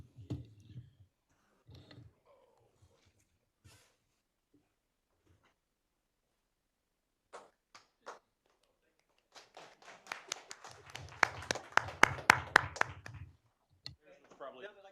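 A short burst of clapping at a city council meeting, several people applauding together with quick dense claps for a few seconds, preceded by scattered speech and small taps in the room.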